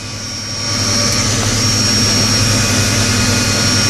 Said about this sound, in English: he's spooling that up to start the other engine